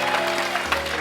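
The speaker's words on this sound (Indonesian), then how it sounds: "Sekali lagi tepuk tangan buat Raffi dong" A studio audience claps on an Indonesian live TV music show, a dense burst of applause over a steady musical tone.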